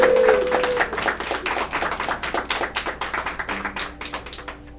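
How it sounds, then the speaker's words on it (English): A crowd applauding at a campaign launch for a district attorney candidate in Plymouth County, steady rapid clapping that starts loud and gradually thins and fades, with a brief tone in the background near the start. "Can we get another round of applause?"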